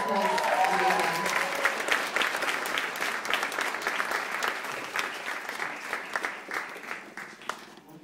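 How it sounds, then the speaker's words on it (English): At an opening event for an international youth environmental summit in 2013, a brief voice gives way to audience applause. The clapping starts dense and loud, then thins into scattered, fading claps. "And everyone give them a round of applause."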